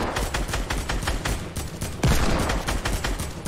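Gunfire in the video game Fortnite: rapid bursts of shots in a steady rhythm, with one louder, heavier blast partway through, and no one talking.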